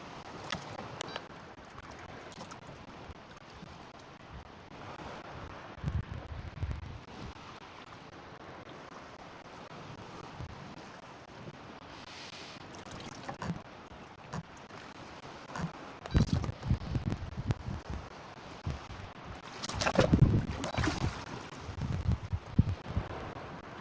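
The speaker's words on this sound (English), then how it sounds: "I am starting to get pretty cold and the wind is picking up" Outdoors by the water on the Salish Sea, wind picks up in gusty, uneven rushes and buffets, with intermittent rumbling bursts and rustling that grow stronger toward the end, fairly close and moderately loud.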